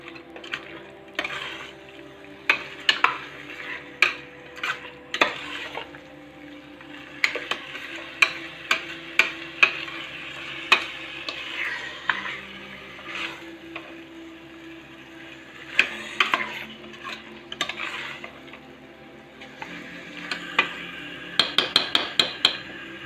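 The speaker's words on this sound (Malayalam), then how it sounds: "ഹൈ ഫ്ലെയിമിൽ വെച്ചിട്ട് ഒരു 4-5 മിനിറ്റ് ഒന്ന് നന്നായിട്ട് ഇളക്കി കൊടുക്കാം" A ladle stirs chicken curry in a pan over a high flame, with irregular sharp clinks and scrapes against the pan over a continuous low sizzle, close by and with no talking.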